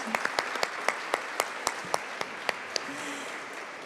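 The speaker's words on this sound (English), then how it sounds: "Let's have a round of applause." Audience at a city candidates forum gives the candidates a round of applause, sparse and fairly light, with individual sharp claps standing out in an uneven rhythm and a faint voice briefly underneath near the end.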